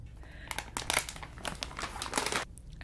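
Crinkly plastic cheese ball snack bag being crumpled and torn open by hand, a burst of sharp rustling crackles up close, lasting a couple of seconds.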